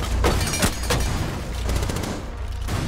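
Machine gun fire in Rainbow Six Siege, a loud, close, rapid burst of shots with a few sharper cracks standing out across a short stretch.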